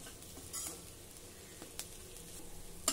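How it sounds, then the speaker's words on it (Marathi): Ivy gourd being stir-fried with crushed peanuts in a pan, a soft steady sizzle under occasional scrapes and clinks of the spatula, close but quiet. "शेंगदाण्याचा कूट घातल्यानंतर 1-2 मिनिट पुन्हा ही भाजी छान परतून घ्या।"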